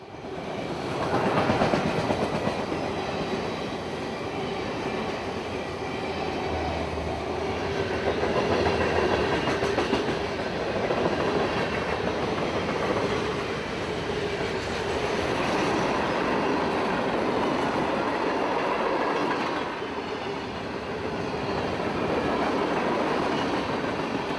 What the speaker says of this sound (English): I didn't have time to move very far as another train was coming right up behind